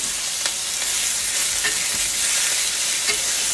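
Hamburger steak patties searing in a frying pan, a loud, dense, continuous sizzle with small crackling pops, heard close and alone.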